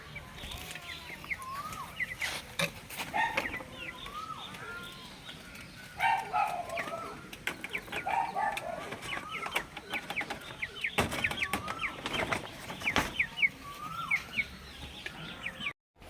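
Chickens and small chicks at feeding time in a home yard, with scattered clucks and chirps, faint and fairly distant, mixed with clattering handling noises and a little talk.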